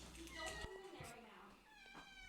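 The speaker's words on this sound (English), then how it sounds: "my cat wants to get in this room" A house cat meows repeatedly to be let into a room, with drawn-out, wavering cries that rise and fall, fairly faint and somewhat distant, under ongoing conversation.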